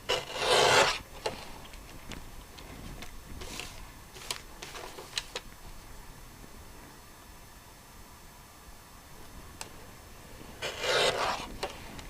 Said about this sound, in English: I'm trimming from the back just so I can line it up with the edge of my frame.